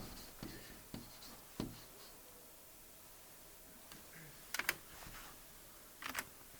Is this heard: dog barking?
no